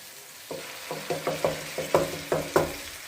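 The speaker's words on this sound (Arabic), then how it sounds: "سمعت الطشه دي؟ انا محتاجاها تطش كده." Garlic with green and red peppers hitting a hot pan, giving a run of sharp sizzling bursts about every half second, each flaring up then settling over a steady background hiss, close and fairly loud with no talking.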